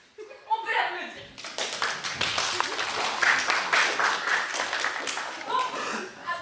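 Warm audience applause fills a small café-théâtre, starting with a few claps and then swelling into dense, steady clapping with scattered chuckles, holding for several seconds before thinning out at the end.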